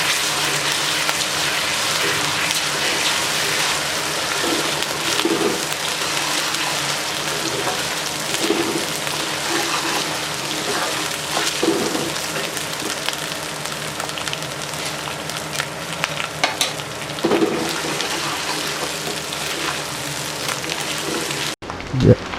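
Garlic and ginger sizzle steadily in a hot pan of oil, a continuous close hiss and crackle with occasional louder spits, heard alone.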